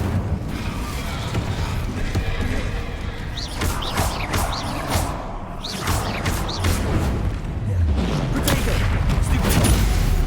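Fire spells such as Incendio are cast during a Hogwarts Legacy battle, with whooshing blasts, bursts and booming impacts layered over a dense, continuous roar of combat.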